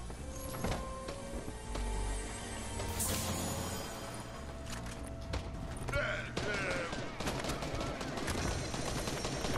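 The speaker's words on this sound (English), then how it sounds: "They keep on shooting at us" Gunfire in the Fortnite video game: bursts of rapid shots and single cracks, some close and loud, mixed with mechanical clatter and game effects, running beneath voices talking.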